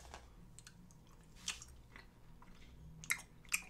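Gummy bears are chewed close up: soft, quiet, squishy mastication with a few sharper, sticky bites standing out near the end, and no talking.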